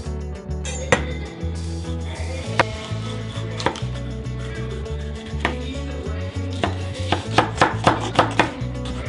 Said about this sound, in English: Chopping time.